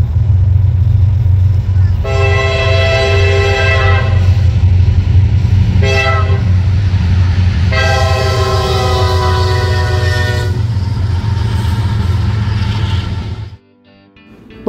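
Union Pacific locomotive leading a freight train on the D&H, sounding its loud multi-chime horn in long blasts with a short toot between them, over a constant heavy engine rumble that cuts off abruptly at the end.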